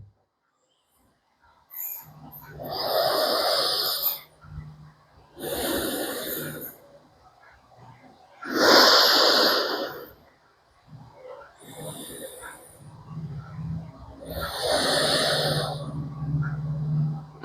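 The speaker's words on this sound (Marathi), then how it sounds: "आणि हीच क्रिया" Alternate nostril breathing in anulom vilom pranayama: about five long, close, airy inhales and exhales through the nose, separated by short pauses, with no talking.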